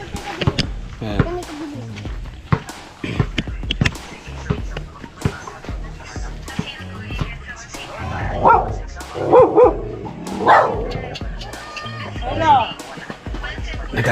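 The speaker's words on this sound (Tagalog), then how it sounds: "Ay, man pati yung aso galit na galit sa akin." A dog barks angrily and yips in repeated sharp bursts, close by and loud, mixed with ongoing talk and background activity.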